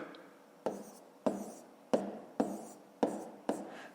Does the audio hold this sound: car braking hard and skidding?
no